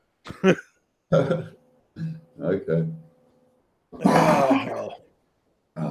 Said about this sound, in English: good old smoker's cough.